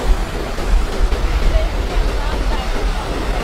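Strong river rapids rush below a wobbly wire suspension bridge on the Everest trail, a dense, steady roar of water that stays loud and continuous throughout.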